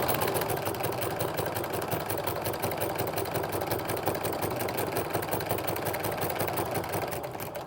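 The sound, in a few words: sewing machine stitching binding on a quilted placemat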